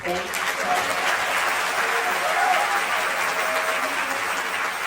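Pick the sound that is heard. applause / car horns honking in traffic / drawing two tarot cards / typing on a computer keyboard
applause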